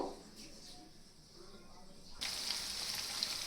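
Leftover roti balls dropped into hot oil give a soft crackle that jumps to a louder, steady hiss partway through and keeps sizzling to the end.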